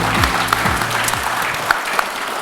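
Brisk applause from a crowd at a national SME awards ceremony, steady dense clapping with a low voice or rumble sliding beneath it near the start.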